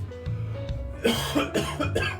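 Several short coughs from a person who is under the weather sound close to the microphone, with a brief throat clearing and soft voiced sounds between them.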